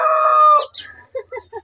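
Close by at a village farmyard coop, a rooster lets out a loud, drawn-out crow, then follows with a few short, clipped clucks before falling quiet.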